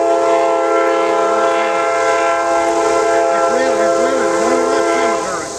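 A train rumbles past at close range with a loud steady drone, its horn sounding in several rising and falling blasts toward the end.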